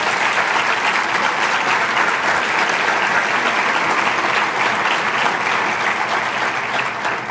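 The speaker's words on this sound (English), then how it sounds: "Would you please give them a round of applause?" A large audience claps in a dense, sustained burst at a church gathering, loud and even throughout with no voices rising above it.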